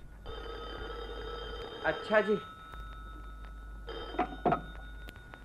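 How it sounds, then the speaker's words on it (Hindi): A telephone rings in an Eid radio comedy drama from Radio Pakistan. Two bursts of ringing stand out over a steady electronic background tone, and someone speaks briefly between them. "देखो किसका फोन है।"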